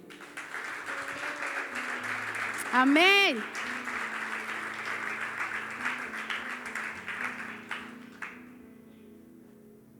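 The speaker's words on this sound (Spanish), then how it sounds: "Dele un fuerte aplauso al Señor." A church congregation claps at length during a women's prayer service. A voice calls out briefly and a short sung note rises over the applause.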